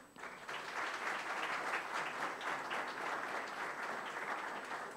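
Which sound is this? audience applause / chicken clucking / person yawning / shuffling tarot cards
audience applause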